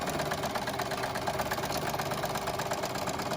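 A sewing machine stitches surgical mask fabric with a steady, close mechanical whir and rapid rhythmic needle clatter throughout.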